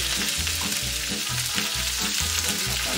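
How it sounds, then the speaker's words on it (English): Peppers fry on a very hot induction cooktop for fajitas, giving a loud, steady sizzle with a regular pulsing low rumble underneath and no voices. "I'm cooking on my induction cooktop because it gets hotter than my regular stovetop."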